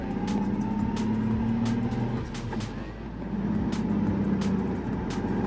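A car moving off on its first drive after a clutch replacement with the gearbox removed and refitted, the clutch a bit dodgy: a steady, fairly loud engine drone with a quick run of rhythmic clicks and ticks throughout, no talk.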